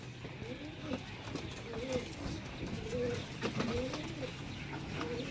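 A Jeera Golden pigeon held in a hand coos softly and repeatedly in low, rolling phrases, with faint background noise throughout.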